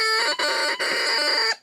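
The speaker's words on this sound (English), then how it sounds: "this piece of it is a hard piece of cane, and it does have that tendency to quack" A hard cane reed being played, giving a bright, buzzy, duck-like quacking tone in three short blasts separated by brief breaks, loud and close.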